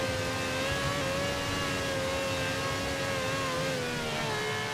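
A car engine in Forza Horizon 4 revs steadily through a handbrake U-turn, a loud sustained whine holding near one pitch, then sagging and climbing a little, with no talk over it.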